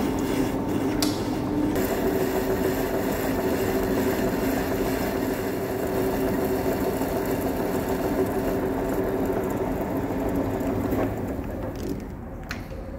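A lathe skimming off a weld on a cracked telescopic cylinder, a steady whirring machine drone with a faint cutting hiss running evenly throughout, with a brief change near the end.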